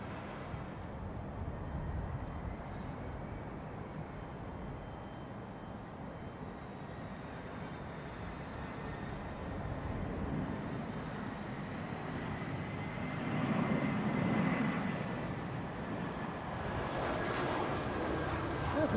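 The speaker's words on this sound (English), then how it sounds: "This A320, by the way, landing from Prague, flying for Swiss." A Swiss Airbus A320 arriving from Prague lands at Zurich Airport on a gusty crosswind day, its engines a steady distant roar that swells slightly near the end.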